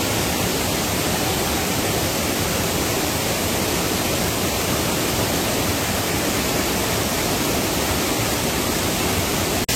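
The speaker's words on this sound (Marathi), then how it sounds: "पूर्ण पाण्यामधून धबधब्यांमधून जाणारी ही वाट खूपच सुंदर आणि घसरडी वाट आहे." Waterfalls pouring across a slippery trekking trail on the Baildara and Fenyadevi ghat route, a loud, steady broadband roar of rushing water that continues unbroken throughout.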